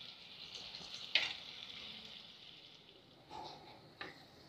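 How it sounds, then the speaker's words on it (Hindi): Paneer frying in a pan gives a soft, steady sizzle, with a few brief clinks and louder crackles rising out of the quiet background. "इसे यूं फैला करके फ्राई होने दीजिए।"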